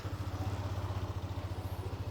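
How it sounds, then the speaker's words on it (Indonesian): Motorcycle engine warming up at idle before a ride, a steady low rhythmic putter close to the listener, running alone without talk. "kita panasin mesin dulu"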